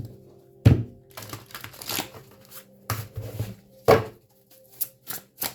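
A deck of tarot cards is hand-shuffled close up, giving irregular papery slaps, crinkly rustles and sharp card snaps in uneven bursts separated by brief pauses.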